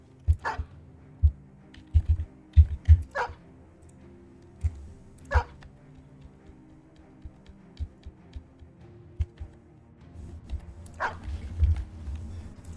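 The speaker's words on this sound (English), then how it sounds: "let's get the dogs replenished" Several dogs barking in a video game, a burst of sharp barks early on and a few more later, fairly close, over steady background music with no talk.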